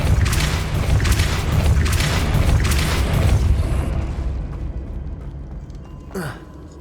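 A Depulso spell cast in the video game Hogwarts Legacy, a loud, dense rumbling burst that fills the first few seconds and then fades, with a brief swoosh near the end.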